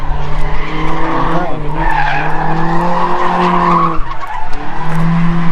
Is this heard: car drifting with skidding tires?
yes